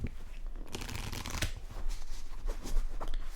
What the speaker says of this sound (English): Shuffle the deck, shuffle the deck.